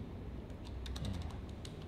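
Typing on a computer keyboard during an OBS audio setup, a run of rapid close keystrokes in the second half over steady low background noise.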